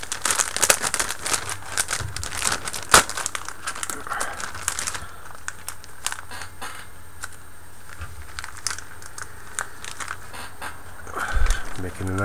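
Plastic bags holding sprues from a Tamiya 1/35 Nashorn model kit crinkle and crumple in close, busy handling, with scattered sharp rustles and a voice talking over part of it.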